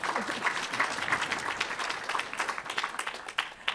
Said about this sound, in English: So, round of applause to welcome our panelists.